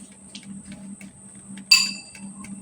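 A metal spoon strikes a bowl once from about one meter away, a single bright ringing clink that decays quickly over a soft steady background hum.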